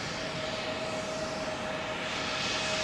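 A Lufthansa airliner on runway 27L at London Heathrow makes a steady, moderately loud engine roar with a faint whine, heard at a distance without voices until a sudden bump right at the end.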